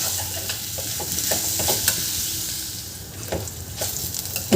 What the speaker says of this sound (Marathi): छान असं परतून घेते 2-3 मिनटं मी तांदूळ